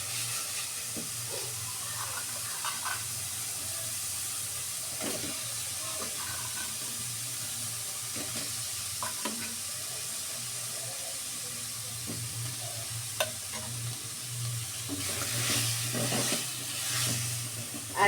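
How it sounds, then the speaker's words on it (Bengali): Rohu fish fries with ground spices in a pan, a soft continuous sizzle and hiss with scattered scraping and stirring clicks, growing livelier near the end. "মশলাটা ভাজা হয়ে গেছে, এখন মাছ দিয়ে দিব।"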